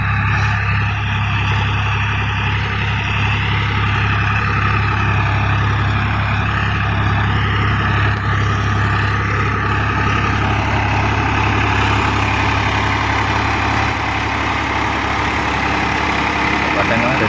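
Tractor ploughing between rows of teak trees on a plantation, a steady loud low engine drone that runs continuously with little change, with someone speaking over it.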